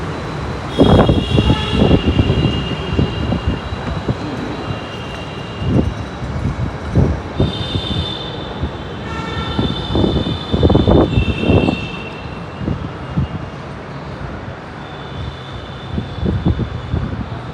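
A Delhi Metro train bound for Vaishali rumbles in with rising mechanical noise and squealing tones, brakes hissing as it slows; steady and fairly loud throughout, no talking.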